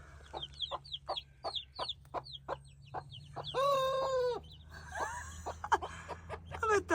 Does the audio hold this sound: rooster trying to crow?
yes